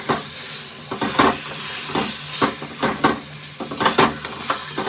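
A spoon works a spiced cauliflower mixture into milk in a cooking pan, giving rhythmic scraping strokes about twice a second over a soft bubbling sizzle, close and alone.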